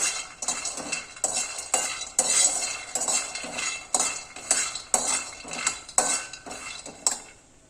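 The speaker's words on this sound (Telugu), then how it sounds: "ముందైతే పల్లీలు వేసేసుకుందాం. ఇదైతే కొంచెం డ్రై రోస్ట్ చేద్దాము, కొంచెం వేగేలాగా." Peanuts dry-roasting in a pan, stirred with a metal spoon, giving a continuous rattling scrape with repeated sharp clinks against the pan, close and fairly loud.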